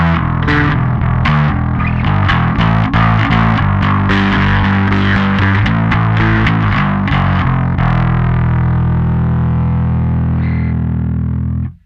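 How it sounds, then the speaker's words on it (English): Loud bass guitar through a distortion effect plays a fast, chugging metal riff with harmonics, then a sustained low note rings out and fades at the end. "Personally, I like the sound of distortion with harmonics"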